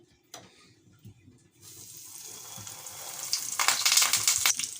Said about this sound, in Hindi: अब हम इसको फ्राई करेंगे। ऑयल हमने बहुत अच्छे से गर्म कर लिया है।